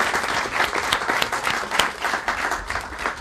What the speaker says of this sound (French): je vous demanderai de les applaudir